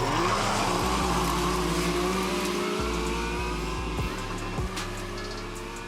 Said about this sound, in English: At the beginning, Fun Cruiser goes first, but in the very end Maverick catches up with it and wins.